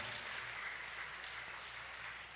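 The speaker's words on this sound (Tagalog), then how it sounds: "Yung malakas na palakpak, ibigay natin sa Panginoon." A church congregation applauds during a service on stewardship and generosity, giving steady, dense clapping that carries evenly throughout at moderate distance, with no voices over it.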